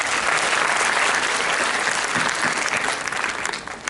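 Loud, dense applause from the audience at an interactive leadership talk, a steady wash of clapping for a few seconds that thins slightly toward the end, no one speaking.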